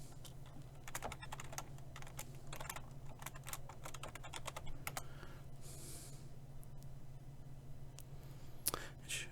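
An email address and password are typed on a computer keyboard: quiet, close, irregular keystroke clicks in short bursts over a faint steady hum.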